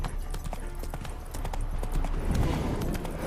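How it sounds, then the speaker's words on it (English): Horse hooves in the video game The Witcher 3 beat out a steady, quick clip-clop across the whole stretch, moderately close and mixed with ambient noise. "Spooking my horse."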